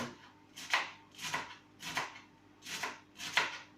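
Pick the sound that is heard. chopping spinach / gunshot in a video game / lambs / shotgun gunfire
chopping spinach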